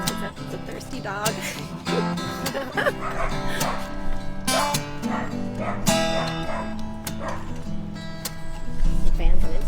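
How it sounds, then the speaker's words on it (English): A dog yips, whimpers and gives short barks, close and fairly loud, over steady background music with a voice talking now and then. "That's a thirsty dog."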